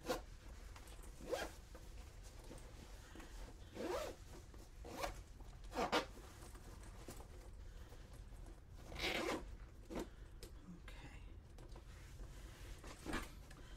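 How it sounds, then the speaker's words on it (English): A zipper being pulled along a sewn cotton-fabric packing cube, several short rasping zips in separate bursts across a quiet room, close and clear with no talking. "and zip it up."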